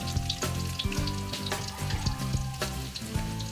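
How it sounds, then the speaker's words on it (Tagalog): Garlic and onion sautéing in a pan for pork pancit, a steady close sizzle and crackle with scattered clinks and scrapes of stirring over a faint background hum. "At ito, nagisa na tayo ng bawang at sibuyas."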